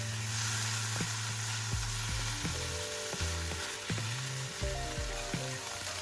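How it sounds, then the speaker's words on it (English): Scrambled tofu stir-fries in oil in a frying pan over medium heat, giving a dense continuous sizzle with a string of light spatula taps and scrapes close by. "Add the tofu, scramble it, and stir fry until most of the moisture evaporates"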